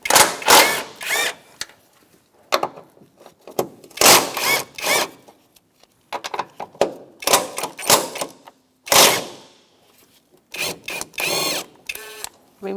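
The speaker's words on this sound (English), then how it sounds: "Take off your cover, and we're going to remove these 3 nuts." Ratchet clicking off control arm nuts on a 2005-2010 Chrysler 300, loud close bursts of rapid ticking separated by short pauses, repeated over and over.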